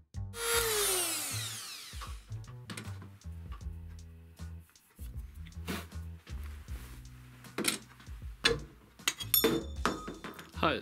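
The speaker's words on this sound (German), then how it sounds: "Die Löcher bohre ich jetzt noch ein bisschen weiter auf" A power drill whines briefly at first, then metal clanks, scrapes and taps follow irregularly at close range as holes in flat steel bar are drilled out wider and the steel is handled.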